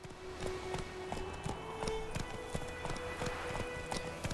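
Horse hooves clip-clop in steady rhythm, at a gallop or canter, in The Witcher 3 on Xbox Series X, close and clear over a low game ambience with a faint tonal hum.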